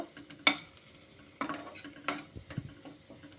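Fresh curry leaves frying in a pan over low to medium heat, soft sizzling broken by a few sharp spatula clanks and stirring scrapes, close and brief.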